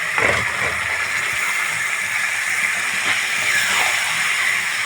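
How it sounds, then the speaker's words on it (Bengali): Chickpeas and peas sizzle steadily with spices in a hot pan as they are sautéed for ghugni, a close, continuous frying hiss with soft stirring scrapes. "খুব ভালো করে আমি কষিয়ে নেব"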